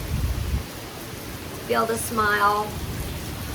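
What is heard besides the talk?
rain falling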